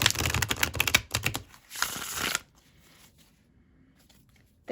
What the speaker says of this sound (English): that's a very nice shuffle right out of the package